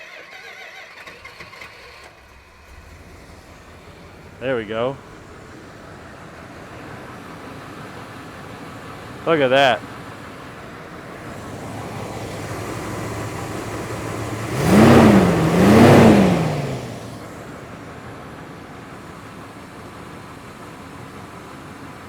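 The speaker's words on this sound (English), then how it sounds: "And the engine's warm, so it might crank for a couple seconds too," A warm 1972 Chrysler Imperial LeBaron gives two short, warbling starter whines, then a longer crank before the engine catches and runs with a rising roar. Brief talk comes in between.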